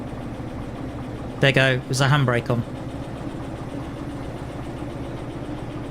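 A locomotive engine idles in the Derail Valley train game with a steady, even throb, while a voice speaks briefly over it in the middle.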